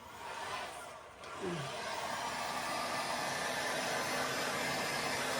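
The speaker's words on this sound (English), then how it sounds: "I'll just lightly, I think, just come over with a heat gun." A heat gun blows hot air over colour shift paste with a steady, breathy whoosh that dips briefly early on and then holds evenly and fairly loud, with no talking.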